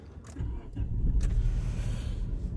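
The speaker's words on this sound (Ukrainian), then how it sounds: "Машина навіть заглохла. Запускаємо знову." A Nissan car being restarted after stalling, with a short cranking burst followed by the engine catching and settling into a steady low rumble, close up.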